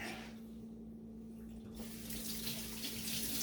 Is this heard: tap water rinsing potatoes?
yes